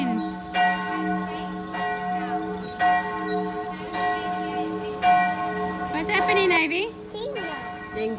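Church bells ring out across the lakeside town of St. Wolfgang in Austria, a steady series of resonant, overlapping strikes at moderate distance, with children's voices and other talk in the background.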